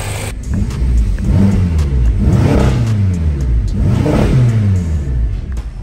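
A BMW F10 M5 twin-turbo V8 engine revs up and down repeatedly, loud and close, each rev rising in pitch before falling back, with a deep throaty rumble underneath.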